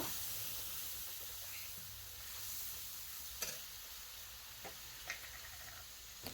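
Spice masala with chili powder for ghugni sizzles steadily in a pan as it is stirred and roasted, a continuous close hiss broken by a few sharp scrape ticks of the spoon.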